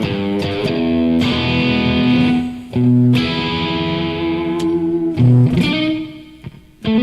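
Distorted electric guitar chords ring out through an amp, sustained notes washing into a reverberant tail, loud and alone with no talking.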